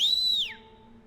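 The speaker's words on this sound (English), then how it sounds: "the other delinquent in track pants made a loud whistle" A single loud, high whistle in the Tiny Bunny video game holds steady, then slides downward and cuts off, leaving a faint low hum.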